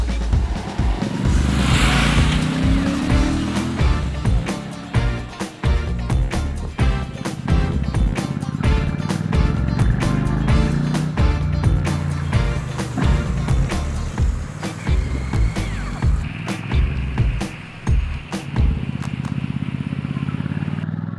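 A Royal Enfield Classic 650 and a 1986 cast-iron Royal Enfield 350 are ridden together. Their loud, close engines give a continuous thumping drone that rises and falls with the throttle, with some wind noise.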